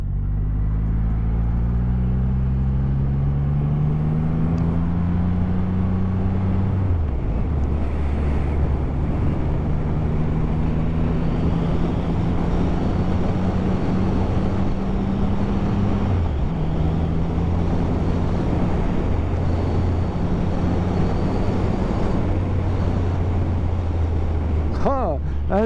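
A BMW R motorcycle engine runs steadily while riding, a deep continuous drone that shifts pitch through gear changes, heavy wind rush throughout.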